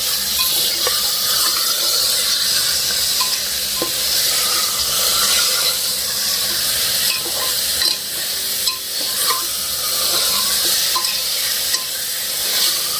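Mutton sizzles with fried onion and ginger-garlic-coriander paste in a pan for a Maharashtrian sukka dish, a steady loud frying hiss broken by scraping stirs and clinks throughout, with no talk.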